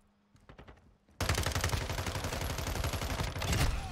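Modern Warfare II gunfire, with a few faint distant shots at first, then a sudden loud, sustained automatic burst firing rapidly and continuously up close.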